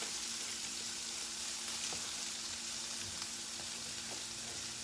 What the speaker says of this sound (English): I'm just gonna dump this coleslaw mix in there